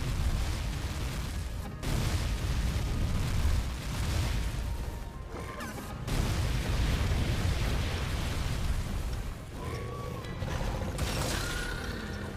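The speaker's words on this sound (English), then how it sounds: "Next is the zigzag fire beam." Alatreon's zigzag fire beam attack in the video game Monster Hunter World Iceborne, a loud, sustained roaring blast of fire with rumbling booms and a few brief breaks, dense and continuous with no talk.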